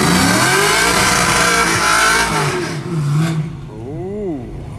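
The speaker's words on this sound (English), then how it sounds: "Ooh, that sounds sweet. Probably a V8." A Chevrolet Suburban truck with a V8 engine at a dragstrip on a Friday night, revving loud and close with rising and falling engine tones, then fading as a lower rumble lingers.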